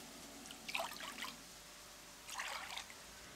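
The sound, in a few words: water poured into a deep bowl for dough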